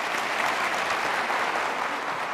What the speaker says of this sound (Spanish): Un aplauso a los expositores.